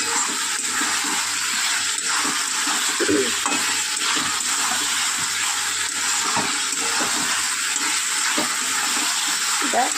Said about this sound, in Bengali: এবার আলু পটলটা দিয়ে আমি একটু কষিয়ে নেব।